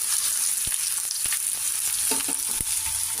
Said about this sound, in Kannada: ಎಣ್ಣೆ ಹಾಕಿದ ನಂತರ ಜೀರಿಗೆ ಮತ್ತು ಸಾಸಿವೆನ ಹಾಕೊಳ್ಳೋಣ